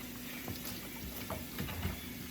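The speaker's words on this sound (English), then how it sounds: "Just go ahead and rinse them." Cold tap water runs steadily while tie-dyed t-shirts are rinsed, a continuous close splashing rush with a few louder sloshes near the end and no talk.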